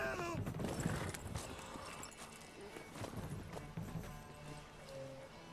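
Hooves clip-clop and a horse whinnies in The Witcher 3: Wild Hunt, mixed with game sounds and ambience at moderate level.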